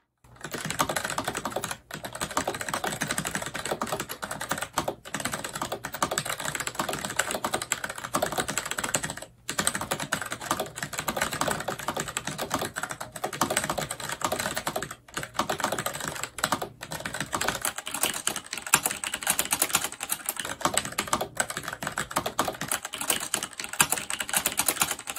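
Rapid, continuous typing on a modified Wyse WY60 terminal keyboard, dense clacking keystrokes close up with occasional brief pauses and heavier spacebar thumps, no voices.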